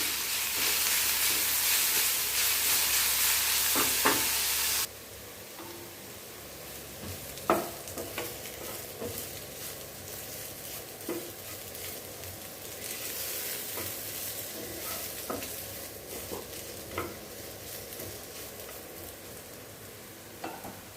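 Coriander leaves sautéed in a pan on a stove just switched off: a loud, steady sizzle for the first few seconds, then a faint hiss with scattered stirring clicks and scrapes.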